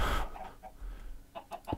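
Chickens cluck faintly in Minecraft, a few short soft clucks spaced out over a quiet background after a brief louder noise at the start.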